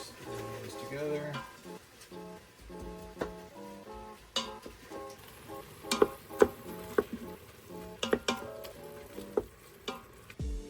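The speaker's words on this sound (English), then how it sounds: "I'm going to throw the onions in. Stir these together." Onions and bacon fry together in a pan in an RV kitchen while being stirred, with irregular scraping strokes and sharp clicks of the utensil over a soft sizzle and a faint tonal background.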